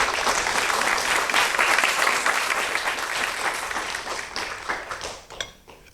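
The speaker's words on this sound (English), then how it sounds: "Round of applause anyway." An awards ceremony audience gives a sustained round of applause, dense and steady clapping from a large crowd that gradually thins and fades out near the end.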